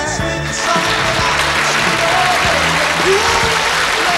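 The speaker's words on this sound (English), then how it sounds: "Give them a nice round of applause." Audience applause at a live performance of a soul song, a dense steady clatter of many clapping hands that holds for several seconds, close and loud, with some voices beneath it.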